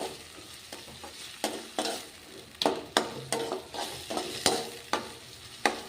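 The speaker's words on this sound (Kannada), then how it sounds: "ಇದು ಮೆತ್ತಗಾಗುವವರೆಗೂ ಫ್ರೈ ಮಾಡ್ಕೊರಿ" Tomatoes and onions fry in a pan for a curry served with parotta, with a steady sizzle and a run of close, rhythmic scraping strokes from stirring.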